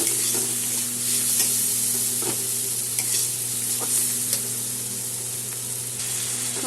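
Chili powder, cumin and turmeric sizzle in hot oil while being stirred for a Bengali rohu fish curry, a steady close frying hiss with scraping stir strokes throughout.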